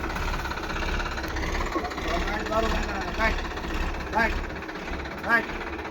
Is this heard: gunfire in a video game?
no